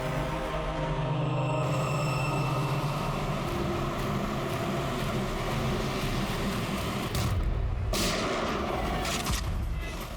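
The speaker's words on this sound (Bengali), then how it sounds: "চালাও গুলি" Sustained loud booming bursts of pistol gunfire in a TV crime drama, rough and continuous across the whole stretch with a sharp crack near the end.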